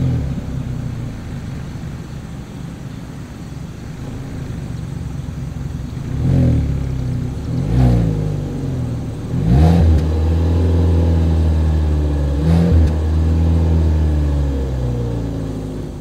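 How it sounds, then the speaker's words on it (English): Exhaust of an idling 2023 Kia Soul, blipped in four sharp revs that swell and fall back over a steady, fairly loud rumble, heard alone without talk. "As always, here is that exhaust clip."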